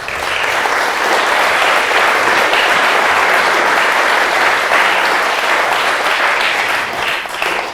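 A colloquium audience at a Louis Braille anniversary event applauds, sustained, dense clapping from many hands at a steady loud level that tapers slightly near the end.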